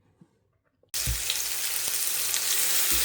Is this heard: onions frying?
yes